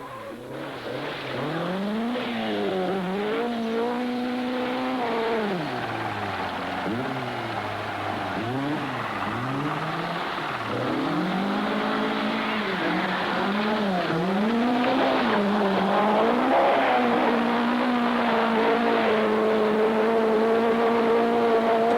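A 1970s Ford Escort rally car races along a snowy stage, its engine revving hard and shifting up and down continuously as it accelerates and slows through corners, loud and close throughout.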